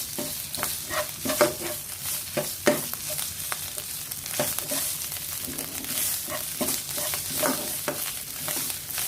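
Curry paste for a jungle curry with striped catfish is stir-fried in a pan, a soft continuous sizzle broken by repeated scraping strokes of the spatula, close and fairly quiet without any voices.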